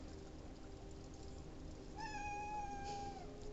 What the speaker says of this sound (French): Mon chat est vraiment d'accord avec moi.